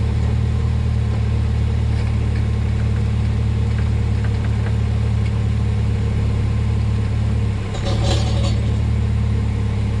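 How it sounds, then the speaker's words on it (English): Classic car driven on town roads as a daily driver, a loud continuous low exhaust drone and engine rumble heard from inside the cabin, steady throughout with a brief dip and a rattle near the end. "I think that's the exhaust."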